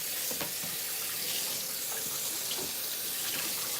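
Water runs steadily from a kitchen tap into a sink while something is rinsed, a close, continuous hissing splash with faint clatters mixed in and no talking.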